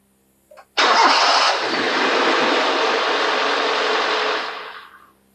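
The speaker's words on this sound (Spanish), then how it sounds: "el momento en que el motor es arrancado" A car engine cranks with a short click, then catches and runs at a loud, steady roar up close for several seconds before fading away.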